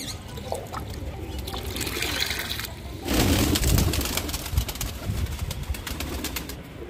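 Pigeons coo softly at close range, layered over splashing water and rustling movement that grow louder midway, with no speech.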